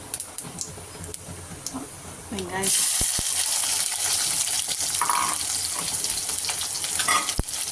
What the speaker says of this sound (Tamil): எண்ணெய் காஞ்சிருச்சு பட்டை சோம்பு பூ எல்லாம் எல்லாம் போட்டு தாளிக்கணும்